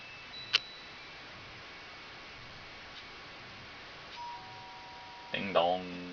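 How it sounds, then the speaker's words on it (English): A doorbell in the video game Danganronpa gives a chime near the end after a quiet stretch with a sharp tick early on and faint electronic tones, heard alone. "Ding dong."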